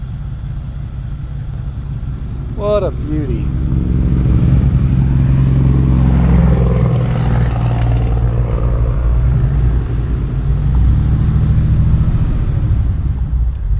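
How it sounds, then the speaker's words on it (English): A 1947 Mercury Eight coupe engine running rough on stale old gas, a loud steady close rumble that swells after a brief tonal squeal near the start, with a voice briefly over it. "Just got it fired up. It's running on some crappy old gas."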